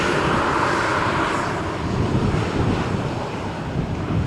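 A Jet2 passenger jet roars at Malaga Airport on a stormy morning, a loud, broad rumbling engine wash mixed with heavy wind buffeting the microphone throughout.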